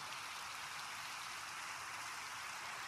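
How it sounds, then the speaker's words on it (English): Steady rain in the Minecraft video game, a continuous bright hiss of falling drops with no breaks, fairly soft and alone. "The rain."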